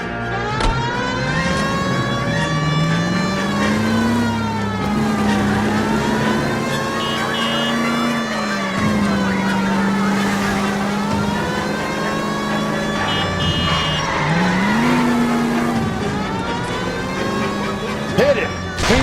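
A 1940s-style car speeds through Los Angeles streets in L.A. Noire during a pursuit, its engine droning under a loud, rising and falling siren that wails continuously throughout.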